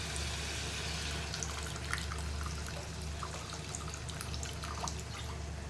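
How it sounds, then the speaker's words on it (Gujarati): Water pours steadily into a pan of spicy usal gravy with garlic chutney, a continuous trickling and splashing with small drips, close and fairly quiet, with no talking. "હવે એમાં પાણી એડ કરી દેવાનું."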